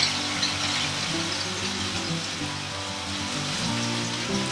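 Beef and garlic cook in a pan with a dense, steady sizzle and spatter, loud and continuous, with no talking over it.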